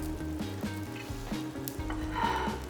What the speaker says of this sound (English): Our steak is just about ready. I'm gonna pull it out of the pan